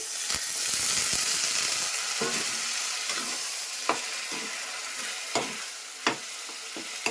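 Boiled potatoes tipped into a frying pan with a splash of water for Bengali aloo dum, making a soft sizzle under repeated sharp scrapes and knocks of a spatula against the pan.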